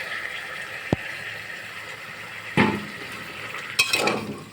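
A premixed blend of salt, turmeric, ginger and cumin powder is poured into a pressure cooker pot with chickpeas and peas and stirred, giving a few sharp metal clanks and scraping spoon sounds against a quiet room.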